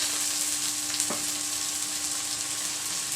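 Garlic ginger paste with green chili frying in a pan for masala bhindi: a steady, close, bright hiss of sizzling oil throughout, with no talking.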